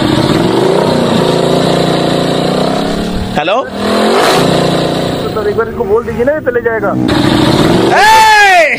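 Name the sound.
motorcycle engine noise passing by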